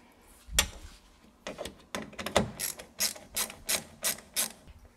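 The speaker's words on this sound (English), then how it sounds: "Start by removing the factory 8 screws along the top" Ratchet clicking in quick bursts as factory screws come out of the aluminum bed of a 2017 Ford Super Duty truck, close and fairly loud, with short pauses between turns.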